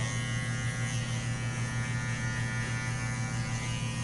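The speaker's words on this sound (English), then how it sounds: "I'm on clipper open though" Electric hair clippers buzz continuously at close range during a fade haircut with the clipper guard lever open, a steady unbroken electric whir with no talking.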